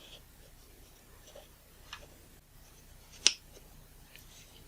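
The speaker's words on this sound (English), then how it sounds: "It was the clicking telling me I got the things in position" Lens parts of a Sigma 80-200mm zoom click into position during reassembly, giving a few faint, sparse ticks and one sharper, brighter click near the end against a quiet background.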